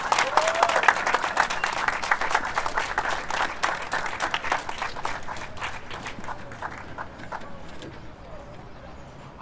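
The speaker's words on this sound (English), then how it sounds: "Let's give him another round of applause" A crowd at a get-out-the-vote rally claps in a lively burst that thins into scattered, uneven hand claps and gradually tapers off, with some voices mixed in.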